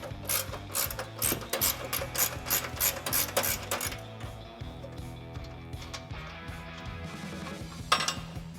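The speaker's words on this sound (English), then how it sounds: "We're just gonna get these 2 bolts out that come out through the inside here." A ratchet wrench clicks in quick repeated bursts while removing the upper control arm bolts on a Ford F-150 front suspension, close and fairly quiet, then slows to a few scattered turns and a single metallic knock near the end.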